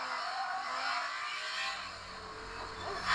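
A car engine in the drifting video game Drift Max Pro drones steadily with a faint whine, holding a fairly even pitch before a brief rise at the end; no one speaks over it.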